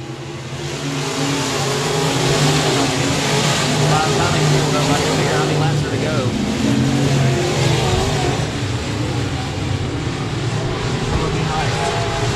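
IMCA race cars roar around the 67 Speedway of Texarkana in a main event, a loud continuous engine drone rising and falling as the pack passes, with an announcer talking over it.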